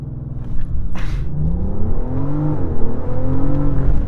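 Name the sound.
BMW M760Li V12 engine accelerating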